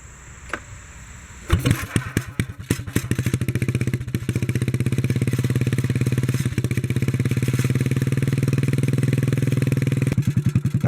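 A 1957 Bolens garden tractor engine starts after a few clunks and settles into a loud, steady running chug close by, with a loose muffler baffle adding a metallic rattle over the rhythmic exhaust pulses.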